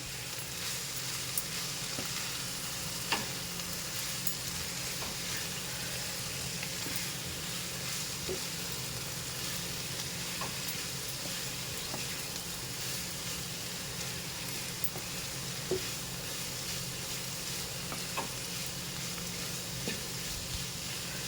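Ivy gourd pieces fry with chili powder in a pan, a soft steady sizzle with occasional scraping stirs and light clicks throughout, close and unvoiced.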